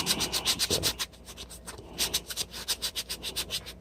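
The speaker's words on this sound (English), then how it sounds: "by me sanding that glue off that I rubbed off with my fingers on there" Close, rhythmic scratchy strokes of sandpaper rubbing back and forth on the wooden handle of a rusty hatchet, sanding off glue, with a short pause midway before the steady strokes resume.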